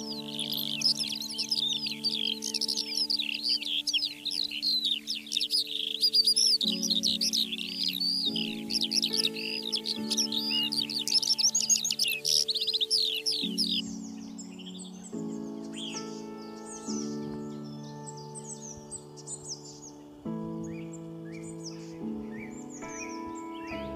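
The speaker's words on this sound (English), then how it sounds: "let's hear to the songs of Skylark and Thrush." Bright, trilling skylark and thrush songs chirp rapidly over a steady background of sustained musical bell tones, the singing continuous and fairly close throughout.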